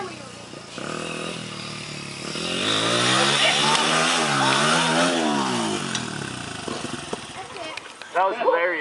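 A large motorcycle revs and roars close by, its pitch rising and then falling over several seconds. People talk over the engine at times.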